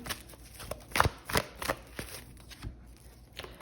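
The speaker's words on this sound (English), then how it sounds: "Let's pull some cards." Tarot cards being shuffled and pulled from the deck by hand, a run of close, crisp riffling slaps and soft papery swishes in uneven bursts, with no talking.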